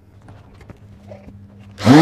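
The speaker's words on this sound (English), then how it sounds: "So far I've sanded it up to about 400 grit." A power sander works an epoxy resin table, first as a low, steady motor hum for most of the stretch, then swelling into a loud, rough grinding surge near the end.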